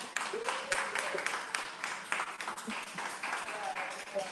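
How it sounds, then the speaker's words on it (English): An audience at a live evening talk gives a round of hand clapping, a dense patter of claps from many people in a room, swelling and fading unevenly while voices mix in underneath. "Can I get a hand clap?"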